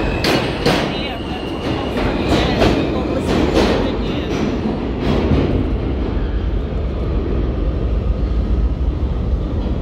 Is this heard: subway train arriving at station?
yes